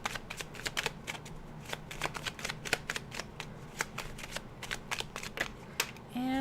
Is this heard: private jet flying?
no